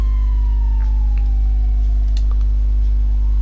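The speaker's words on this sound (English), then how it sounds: "I can hear sirens around, and sirens usually means they're chasing after a player" Police sirens wail in the distance in GTA 5, a long gliding tone falling slowly over the whole stretch, heard faintly over a steady low hum with no talking.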